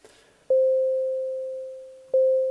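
A pure, steady sine tone from an STS Sine VCO module in VCV Rack, starting abruptly, holding a single unwavering pitch while slowly fading, then cutting and restarting near the end.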